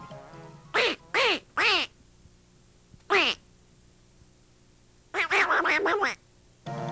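A voice imitates a duck quacking: three quick quacks, a single quack after a pause, then a rapid burst of several quacks, all loud and close over a quiet background.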